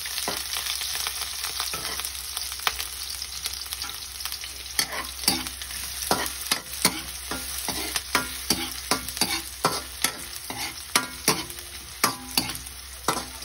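Onion and egg fry in a hot pan with a continuous loud sizzle. A spatula stirs and scrapes at a steady, irregular rhythm throughout, with no voices.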